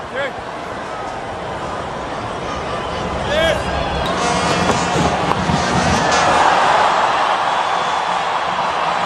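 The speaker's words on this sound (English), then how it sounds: "Crowd roaring." A stadium crowd at a T20 cricket match at SuperSport Park, South Africa against West Indies, swells into a loud, rising roar over several seconds. A commentator can be heard talking over it.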